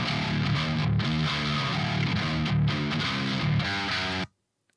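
Distorted djent tone from an 8-string Strat-style guitar, a heavy chugging low riff played loud and tight for a few seconds before stopping dead into silence.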